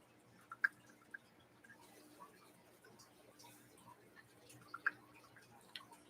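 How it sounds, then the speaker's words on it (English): Water drips from a leaking furnace onto a puddle below, with a few sharp, clear drips spaced irregularly over a quiet indoor hum and soft background noise. "The bottom of my furnace has got a big old puddle of water, and it's running out of it."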